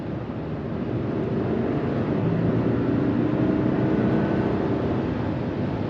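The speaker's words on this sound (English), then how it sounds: "I want to show you the torque, which gives you the ability to accelerate even while you're already moving." Cabin of a 2023 Lexus LX600 F-Sport with its twin-turbo engine pulling under acceleration while already moving, a steady broadband rumble and road roar that swells slightly and holds, no talking.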